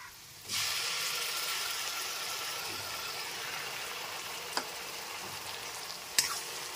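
Onion paste, three medium onions' worth, drops into a hot pan of lightly fried chopped onion and bursts into a steady close sizzle that holds throughout, with two brief sharp clinks of a utensil near the end.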